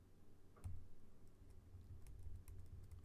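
Quiet typing on a computer keyboard while Python code is being entered, with scattered light key clicks in a short burst over a low background hum.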